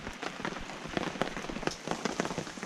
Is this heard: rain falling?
yes